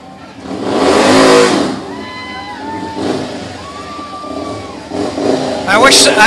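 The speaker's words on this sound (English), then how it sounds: "They brought some motorcycles too." Motorcycles rev in a Fourth of July parade, a rough engine roar swelling loud and close amid crowd chatter and people talking, with a final burst near the end.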